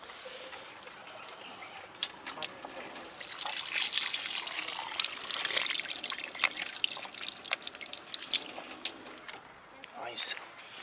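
Water trickling and dribbling from a public drinking tap outdoors, a steady splashing run with small drips, heard under a person's voice and street background.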